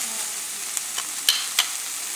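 Pork sizzles as it sautés in a pot for stew, a steady loud hiss with a few light taps and scrapes from stirring.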